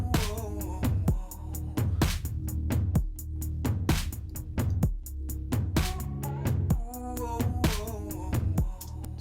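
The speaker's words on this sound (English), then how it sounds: "So here is kind of the sample that I used for the vocal effect" Chopped 'ooh' vocal sample run through a filter in the ESX24 sampler for a pop chorus melody, heard as rhythmic, stuttering vocal stabs pulsing steadily over a beat, moderately quiet, with no talk.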